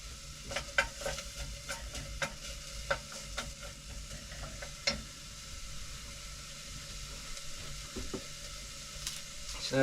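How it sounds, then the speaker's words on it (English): Chilli sizzles quietly in a pan, a faint steady frying hiss broken by soft scattered stirring clicks and scrapes, with no talking. "Now you want to sort of cook your chilli off a bit as well."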